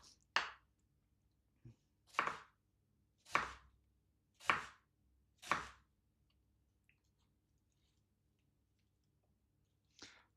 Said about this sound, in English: Chopping the ends of the onion is what makes you cry.